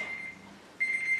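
An exercise timer sounds a sustained high electronic beep, which cuts out briefly and then resumes for a second tone, faint and alone.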